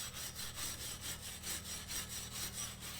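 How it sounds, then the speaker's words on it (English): Steady back-and-forth scraping as excess rust is cleaned off the rear brake hub of a Jeep Renegade, a regular rhythmic rasp of about two strokes per second, close and continuous, with no talking. "clean all this excess rust off"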